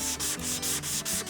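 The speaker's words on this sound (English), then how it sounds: "the hand sanding is the only way you can get this thing finished" Wood being sanded by hand in steady back-and-forth strokes, a loud, close, rhythmic rasping hiss repeating about every fifth of a second with no voices.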